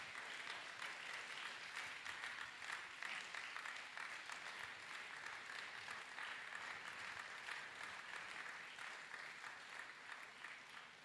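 A congregation at an evangelistic service claps hands together in a steady, dense patter that holds evenly throughout, fairly soft and distant, with no voices standing out.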